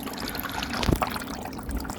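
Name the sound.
pond water flowing through filter from pump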